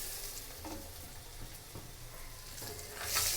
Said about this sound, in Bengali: আলুগুলো ভাজবো একটু নুন আর একটু হলুদ দিয়ে